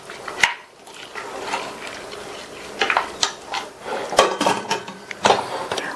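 Metal clanks and clatters close by as a pressure cooker lid is set down, a few sharp knocks and rattles amid kitchen handling.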